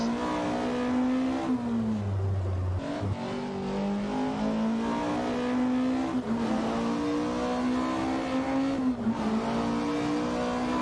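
A rally car in the Richard Burns Rally sim racing game, its engine droning loud and continuous as it accelerates, pitch climbing and dipping through gear changes and revs with no voices.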